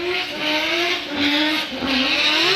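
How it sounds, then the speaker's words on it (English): A Formula Drift car on a qualifying run at the Gauntlet in New Jersey screams with a loud, ear-piercing exhaust, its engine pitch rising and falling as it rips through the gears. The roar stays close and continuous throughout. "Ear-piercing exhaust note into that second outer zone"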